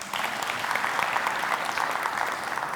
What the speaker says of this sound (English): round of applause for him as well.